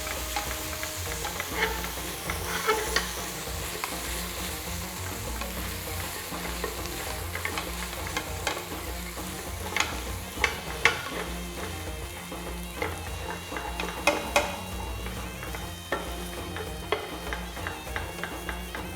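Onions caramelizing in a pot for Lebanese kibbeh are stirred over a continuous close frying sizzle, with scattered scraping and clicking strokes from the utensil.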